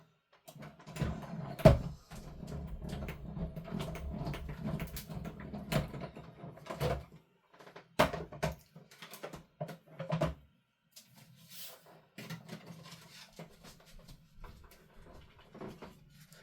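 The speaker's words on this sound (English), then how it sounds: "now that'll just go through my die cut machine as is" A crafting die cut machine feeds a stamped greeting card through its rollers, giving a steady mechanical grinding and cranking with a few sharp clunks, close and moderately loud, easing off partway through before quieter handling sounds.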